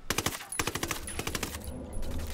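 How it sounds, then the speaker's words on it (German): Rapid bursts of automatic gunfire in the video game Ghost Recon Wildlands, several sharp volleys in quick succession with brief pauses between, loud and close. "Schüsse, linke Straße."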